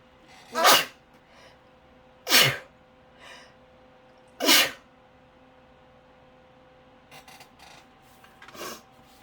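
Three sharp sneezes, spaced a couple of seconds apart, close and loud, followed by faint rustling.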